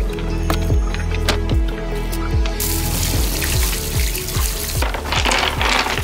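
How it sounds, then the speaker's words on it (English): Water sloshes and splashes steadily as river rocks from a backyard pond are washed, with dense close wet noise and intermittent knocking thuds running throughout. "So I got the rocks washed off"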